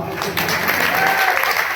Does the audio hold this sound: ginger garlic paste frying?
no